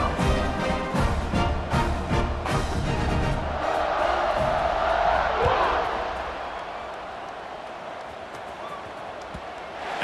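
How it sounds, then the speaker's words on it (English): A stadium crowd roars and buzzes after a touchdown at a UCLA vs Maryland football game, a broad swell of cheering that builds, then slowly fades under a commentator's voice. "this crowd is buzzing after that last score"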